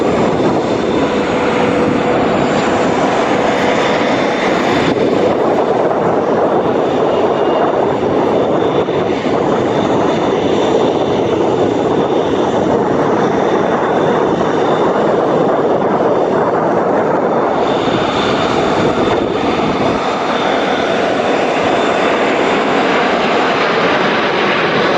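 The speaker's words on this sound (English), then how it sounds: "this Boeing 777X makes an impressive flying display at the Dubai Airshow" A Boeing 777X jet airliner performs a flying display at the Dubai Airshow, its engines roaring loud and steady throughout, a broad continuous jet rumble and whine that swells slightly as the aircraft passes.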